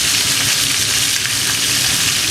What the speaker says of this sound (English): We've just got one more side left on the lamb to seal off